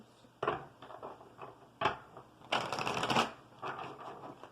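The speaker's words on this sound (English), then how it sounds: "I'm going to do a couple more shuffles." Tarot cards shuffled by hand in several uneven bursts of riffling and slapping, close and fairly quiet, with no voices.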